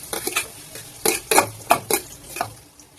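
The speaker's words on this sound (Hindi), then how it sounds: "मैं डालूंगी गार्लिक और ओनियन," Garlic and onion stirred in a pan for chowmein, with a series of scraping spatula strokes and clinks against the metal pan over a soft sizzle, close and fairly loud.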